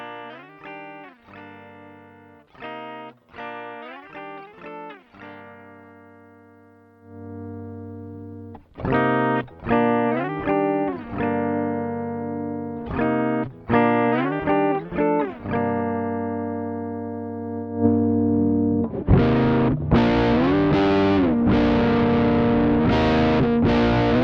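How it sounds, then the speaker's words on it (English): Electric guitar through a Joyo California pedal on a clean setting while the voice control is swept, with picked melodic phrases and chords that grow fuller and brighter, ending in strummed chords, and no talk. "let's hear the clean sounds of the California pedal with the voice sweep"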